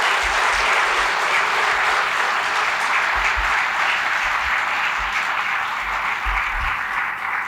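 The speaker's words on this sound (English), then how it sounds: "Can we please get a round of applause for all of our inductees this evening?" Loud, sustained applause from an audience at the 2025 Cleveland International Hall of Fame induction ceremony, honoring the evening's inductees, steady and dense throughout with no voices over it.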